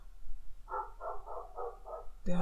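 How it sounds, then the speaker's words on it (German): A guard dog at an abandoned special weapons depot barks in a quick string of about five muffled barks, somewhat distant and faint over a low hum, followed by a sudden louder thump. "Der Hund ist echt."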